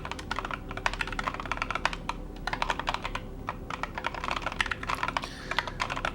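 Steady rapid keystrokes on a computer keyboard during a typing-practice session, close and continuous with uneven bursts of clicks and no talking.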